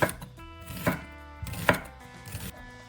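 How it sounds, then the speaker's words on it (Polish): A knife slicing red onion into rings on a cutting board, close and crisp, with three or four distinct chops spaced about a second apart. "Teraz kroimy czerwoną cebulę w takie talarki również"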